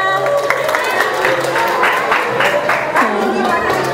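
An audience claps for a third-place winner at an evening Isra Mi'raj celebration, with scattered, moderately loud applause running under crowd chatter and a voice speaking over it.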